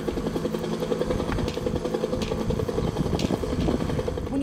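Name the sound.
recorded sound of a Huey helicopter at Vietnam memorial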